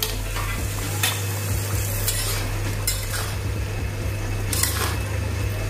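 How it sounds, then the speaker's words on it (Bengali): Potatoes and turmeric are stirred in a sizzling frying pan for a singhi catfish curry, with repeated scraping strokes over a constant close frying hiss and a low steady hum underneath. "ভালো করে মিশিয়ে দিলাম"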